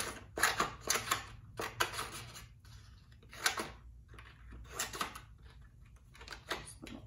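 Green paper being cut with scissors into a grass-like fringe, a run of short crisp snips in quick clusters separated by brief pauses, close and moderately loud with no talking.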